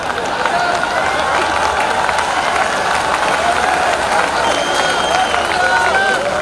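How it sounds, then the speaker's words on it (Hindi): Spectators clapping from behind a fence at an evening kabaddi gathering in Gadarwara: a dense, steady patter of applause mixed with crowd murmur and voices, continuous throughout. "वहां से वो ताली बजा भी रहे हैं बेचारे, देखो"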